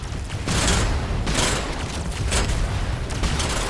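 Scrap turret in the video game Hostile Mars firing repeated bursts of gunfire, with loud broadband cracks at uneven intervals over a constant low rumble of battle noise.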